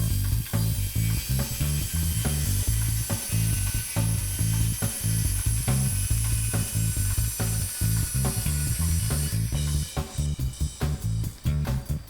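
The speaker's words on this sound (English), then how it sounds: "So here I am cutting the glazing." Greenhouse glazing panels being cut for a shed build's windows, a loud continuous rattling, ratchet-like mechanical buzz with rapid repeated clicks running steadily throughout, no talking.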